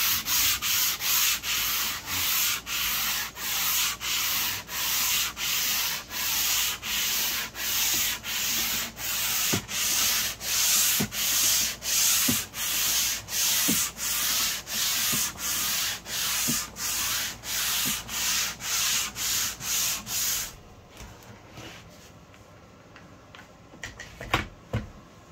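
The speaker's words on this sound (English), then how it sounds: "Sand those little ridges down. Then we'll go across." Steady rhythmic hand sanding over ridges of grain filler on oak, a loud close rasping stroke repeating back and forth for about twenty seconds, then stopping to leave faint quiet handling.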